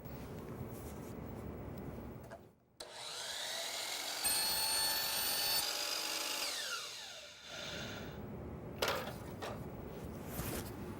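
A sliding compound miter saw cuts a kerf line into wood, the whine and blade noise rising for several seconds after a brief pause, then spinning down, with quieter workshop sound around it.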